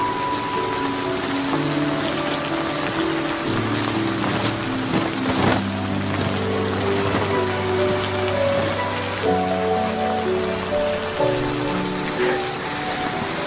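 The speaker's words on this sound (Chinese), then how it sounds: "下雨了" Steady rain falls in a continuous hiss across the whole scene, with sustained background music playing over it and no talking.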